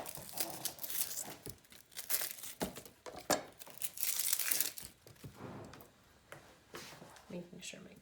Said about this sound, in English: Cutting my onion in half, taking the peels off completely.